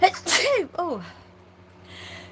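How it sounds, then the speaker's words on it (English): One loud, sharp human sneeze with a quick wind-up, then a soft vocal exclamation and a quiet tail. "I need to sneeze."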